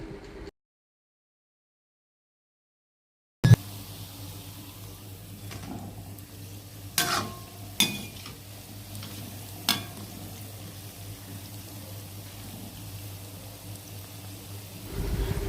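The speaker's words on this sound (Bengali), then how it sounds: "এদিকে কড়াইতে তেল গরম হয়ে গেছে, ছোট ছোট করে বড়ার আকারে একে একে দিয়ে দিয়েছি কড়াইয়ের মধ্যে।" Palm fritters (taler bora) fry in hot oil in a wok with a steady low sizzle, broken by a few sharp clinks and bumps, after a brief silent gap near the start.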